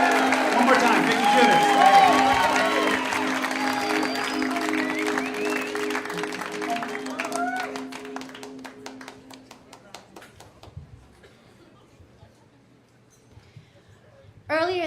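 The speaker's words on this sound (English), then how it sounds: "Keep that applause going for Vicki Juditz." Audience applause at the Los Angeles Moth GrandSLAM storytelling event, a dense, steady clapping over music and crowd noise that thins and fades toward the end before a brief burst at the close.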